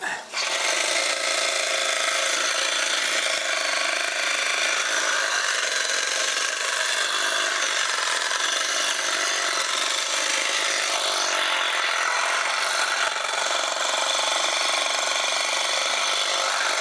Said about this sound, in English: we'll clean that up with the hedge trimmers in just a second